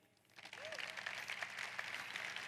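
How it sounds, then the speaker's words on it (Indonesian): Audience applause at a seminar, a soft broadband patter that swells within the first half-second and then holds steady, moderately distant and fairly quiet. "Sekali lagi kita beri tepuk tangan di depan ini."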